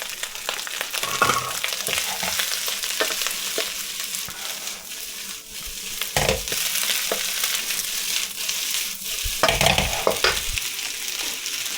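Scallions stir-frying in a pan with rice, kimchi and smoked brisket: a loud, continuous sizzle broken by repeated bursts of scraping and tossing as the pan is stirred.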